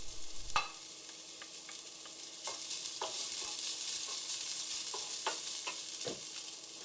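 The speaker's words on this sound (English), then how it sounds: "Then fry that till the onion softens and becomes translucent. Then add the chopped garlic" Onion and garlic fry in a pan with a steady, fairly quiet sizzle and occasional scrapes and clicks of a utensil, close by with no voices.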